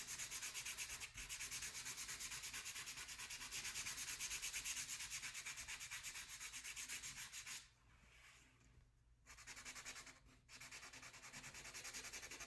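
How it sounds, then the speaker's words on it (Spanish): Coarse sandpaper rubs briskly back and forth over a wooden printmaking block in fast, even strokes, close and steady, with brief pauses near the end before the scrubbing starts again; no one speaks. "remarcaría las partes que anteriormente lijé con la lija más gruesa de madera"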